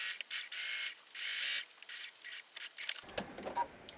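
A sewing machine stitches a French seam at a 3/8-inch allowance, giving bursts of fast, steady mechanical whirring that start and stop, followed by softer fabric handling and clicks near the end.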